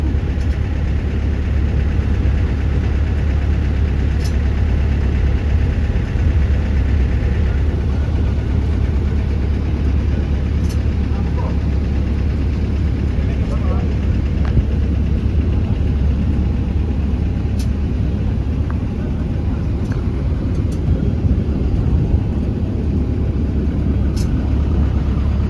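A tug engine idles steadily while hooked up to a Boeing 767-200F cargo jet in a maintenance area, a loud constant low rumble that holds without a break, with faint clicks and clanks now and then.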